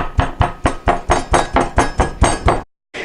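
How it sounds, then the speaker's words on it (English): Eleven steady, evenly spaced blows of a carpentry hammer thudding on flank steak, loud and close, ending with a brief silence. "I just bring out the real hammer"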